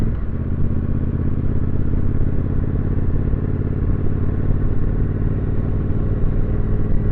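A Triumph Street Twin 900 motorcycle rides along a local street, its engine a steady, loud, continuous drone close by with wind rumble and no pauses.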